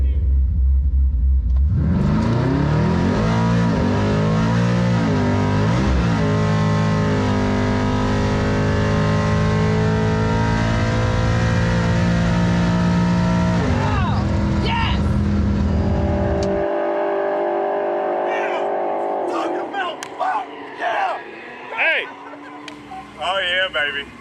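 A nitrous-equipped car accelerating hard in a drag race against a Cadillac, its engine roaring loudly up through the gears with rising pitch and shift dips, then dropping to a quieter idle as someone shouts excitedly.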